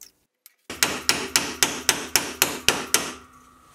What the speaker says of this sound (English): Final thing left to do is tap the chisel in.